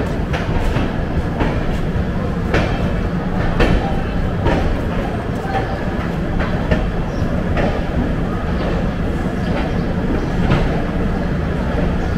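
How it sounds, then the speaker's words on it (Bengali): The Howrah–Ranchi Shatabdi Express runs at speed, heard from inside an AC chair car as a loud, constant rumble with rhythmic wheel clicks over rail joints and faint voices in the carriage. "একদম রাইট টাইমে ট্রেন ছেড়েছে"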